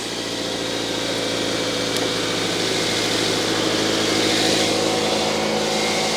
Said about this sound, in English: we'll leave that engine running now to charge the battery up